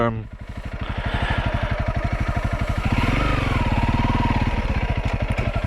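A new motorcycle's engine runs close by with a steady, loud, rapid thumping beat, its revs rising slightly midway, under a person talking.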